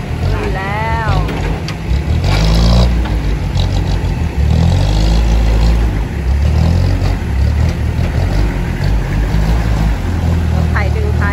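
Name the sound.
farm tractor engine towing a stuck cassava truck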